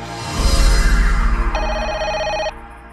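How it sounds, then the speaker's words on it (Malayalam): In a film scene, a low rumbling boom fades into a single burst of a telephone bell ringing, bright and fairly loud, lasting about a second before cutting off. "ദേ മണിയും അടിച്ചു"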